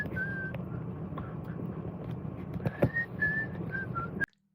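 A man whistles a wavering, nervous tune during an audit and cop watch, the melody carrying clearly over steady low background rumble before cutting off abruptly.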